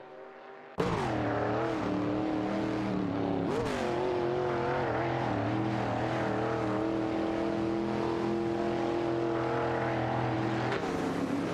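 A Nissan Skyline 2000 NTR and a BMW CSL 3.5 in a racing video game, battling for position. After a brief quiet start, loud sustained engine roar comes in, with pitch rising and falling through gear changes and revving.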